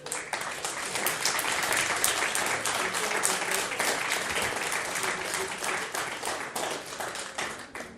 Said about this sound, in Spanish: Denle un aplauso a Rey.